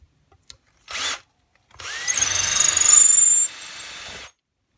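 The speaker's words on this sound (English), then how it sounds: "I'm going to mark the drill so I don't go too far." A power drill bores into the body of a DIY guitar being built with a kill switch, a short burst first, then a pause before a longer, steady whirring run of about two and a half seconds, close and loud.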